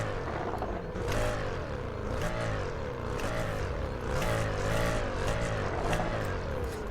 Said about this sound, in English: I'll just rev it up real quick so you guys can hear the sound from the outside